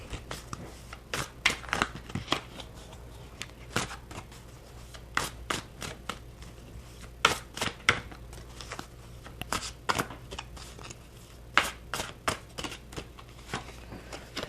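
A deck of tarot cards being shuffled by hand, with repeated bursts of riffling and slapping cards spaced irregularly across the clip, close and fairly quiet, with no talking.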